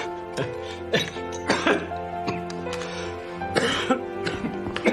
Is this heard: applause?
no